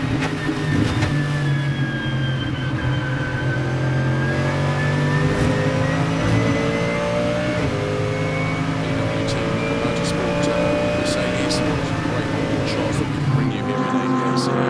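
Onboard a GT race car at the ADAC GT Masters round at Oschersleben, the engine drones steadily and shifts pitch through gear changes, with a commentator talking over it throughout.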